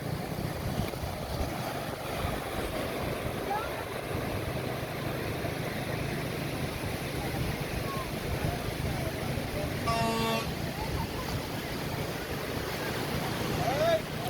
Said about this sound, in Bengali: আজকেও সমুদ্র বেশ উত্তাল